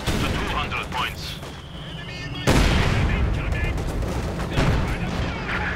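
Heavy mortar fire in the Company of Heroes 2 strategy game booms amid crackling gunfire and battle noise, with a sudden loud blast midway, while a caster talks over the combat.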